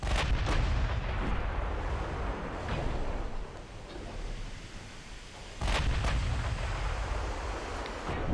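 Deep booming salvos from warship guns firing high-explosive shells in the Ultimate Admiral Dreadnoughts naval battle, a few heavy blasts over a constant low rumble of sea and battle.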